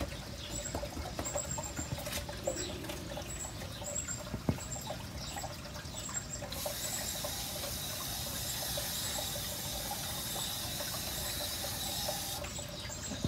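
Water is poured and dribbles quietly onto mounded sand shaped as a mold for a hosta-leaf bird bath, a soft, faint trickle with light patter.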